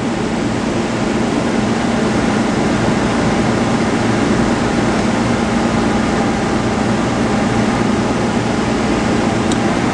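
An HTC 8030 cassette and box washer runs its rinse cycle, giving off a loud, continuous mechanical roar and hiss that stays steady and unbroken throughout.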